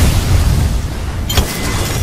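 A single boom from Mad Maggie's ball going off in Apex Legends, a sharp burst after a low rumbling stretch, followed by a brief fading tail.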